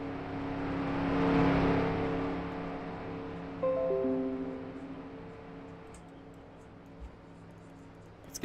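Several race cars roll down pit road at an ACS Penn State 80 race, a steady engine drone that swells and then eases, with shifting engine tones partway through and a faint clunk near the end.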